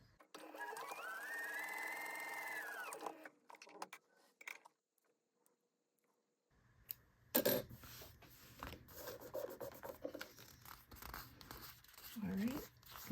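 A sewing machine top-stitches along the folded edge of a leather raw-edge wallet: a few seconds of quiet motor whir, a pause, then softer clicks, rubbing and handling noises, all faint.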